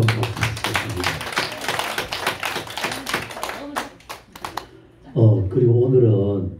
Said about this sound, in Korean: 다시 한번 박수 주시겠습니다